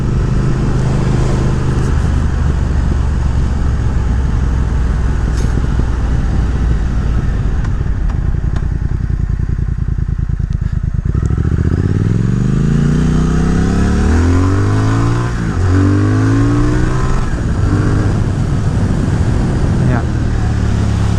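A Triumph Speed Twin running an ECU tune pulls hard through the gears, its engine note climbing in repeated rising sweeps, loud and close over heavy wind rush.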